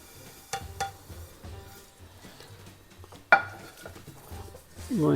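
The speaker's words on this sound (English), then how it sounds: "I'm going to give it a bit of a stir so that it gets slightly roasted in the ghee that we've added" Roasted samo grains stirred in ghee in a pan, with soft scraping and a couple of sharp clinks of the spoon against the metal, then a sizzling swell near the end; quiet and close.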